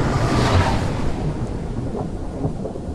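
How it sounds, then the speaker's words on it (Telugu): Thunder rumbles through a dark, storm-laden night with rain falling, a long rolling roar that fills the whole stretch, used as an effect within a Telugu horror story narration. "ఆకాశమంతా నల్లని మబ్బులు కమ్మి ఉరుములు మోయిస్తూ ఉన్నాయి."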